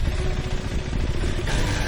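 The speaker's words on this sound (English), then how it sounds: "In stock form, the motorcycle even stalled in neutral when trying to rev its engine." A KTM 390 Adventure R engine is revved in neutral in stock form: a loud, close, rough engine roar runs throughout, and its tone shifts near the end.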